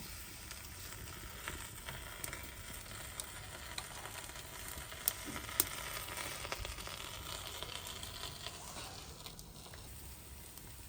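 Saag paratha frying on an overheated tawa over a high flame in a village kitchen: a steady, loud, close sizzle with scattered crackles and pops running throughout, no voices.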